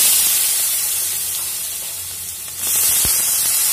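Turmeric-dusted potatoes dropped into hot oil in a pan for a Bengali cauliflower-stalk chorchori, a bright steady hiss that swells suddenly into a louder sizzle with a brief thump, close and alone.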